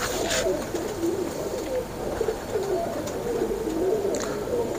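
Soft, repeated cooing of teddy pigeons close by, a low warbling rhythm over a faint outdoor background.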